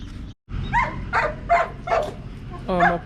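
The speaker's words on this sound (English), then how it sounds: "My poor Bubba, he's barking because my dad didn't take my sister to practice how to drive" A pet dog named Bubba barks in several short, separate bursts, close by and fairly loud, with household background noise running underneath.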